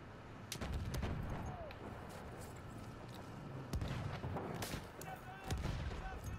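Sniper rifle shots in the video game Battlefield 1 crack out as separate, fairly faint reports spaced a few seconds apart over constant battlefield noise.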